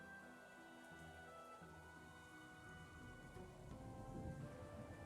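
Rain falling in the video game Trails in the Sky the 3rd, a faint steady patter and wash of raindrops beneath soft sustained musical tones.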